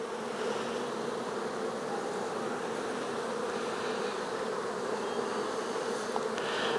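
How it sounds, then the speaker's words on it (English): Honey bees buzz steadily and densely around opened hive frames during a beekeeping inspection, a close, continuous drone with no talking. "There's so many bees on my ear of my frame."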